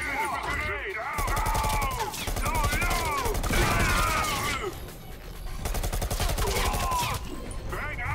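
Rifle fire in the VR game Bullet Train: rapid bursts of loud, sharp shots rattle in clusters across the clip, broken by brief lulls, with a voice talking over the shooting.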